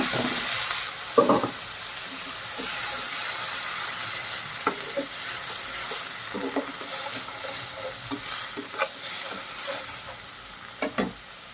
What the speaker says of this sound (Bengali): পেঁয়াজটা হালকা ভাজা হলে এতে দিচ্ছি সামান্য পরিমাণে পানি, যাতে মশলাটা পুড়ে না যায়।